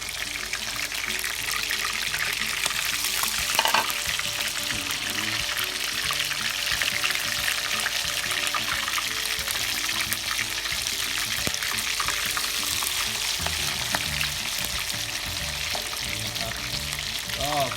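Battered crayfish deep-frying in a pot of hot oil over lowered heat, a steady dense bubbling sizzle running throughout with a few brief clinks near the start and no talking.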